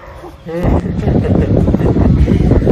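Strong gusty wind buffets the microphone in a steady low roar, loud and close, after a brief quieter moment at the start.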